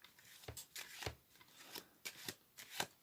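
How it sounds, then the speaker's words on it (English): A deck of cards is riffled and bridged repeatedly, crisp flurries of flapping cards in a steady rhythm, close and fairly quiet. "give them a really good shuffle"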